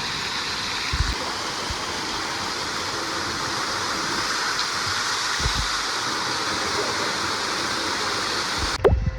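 Water rushing steadily down the family falls at an outdoor theme park, a loud continuous broadband roar heard close by, with a few brief low thumps and a short clatter near the end.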